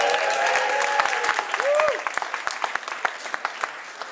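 A crowd at a comedy roast applauds, a dense wash of clapping that thins into scattered individual claps, with a few voices and a brief whoop rising over it.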